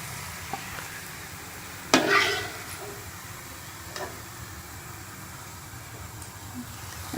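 Beef kheema rolls fry in oil with a low steady sizzle, broken by a sharp clatter and a few faint ticks.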